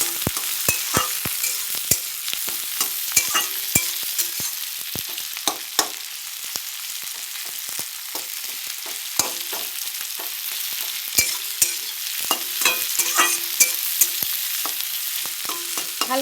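Chopped onions and green chillies fry in a pan with a constant crackling sizzle, broken by frequent sharp taps and scrapes of a stirring spoon, close and with no talk.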